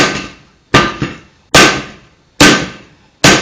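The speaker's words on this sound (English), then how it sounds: "Let's use this big hammer." A big hammer beats on metal during a tire repair job: five loud, sharp clanging strikes at a slow, uneven pace, each ringing and fading before the next.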